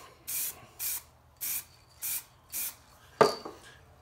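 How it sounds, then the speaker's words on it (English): Five short, even bursts of spray finish mist onto a wooden split bowl, each a hiss of about a third of a second with brief pauses between, followed by a sharp clack and a fainter knock near the end. "I'm going to go ahead and spray the top."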